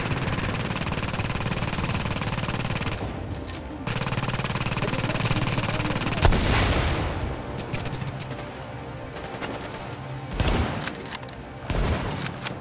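Rapid automatic gunfire bursts from a firefight in the video game The Division, loud sustained rattling volleys broken by short pauses and a few sharper booms.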